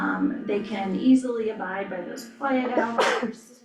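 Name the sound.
sneeze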